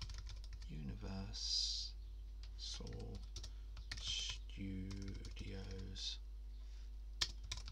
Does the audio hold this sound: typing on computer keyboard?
yes